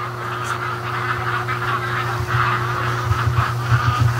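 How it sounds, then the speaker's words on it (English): Ducks return home in the evening from a swamp, honking and quacking in a loud, close, continuous chorus over a constant low background hum. "And you can hear the ducks coming."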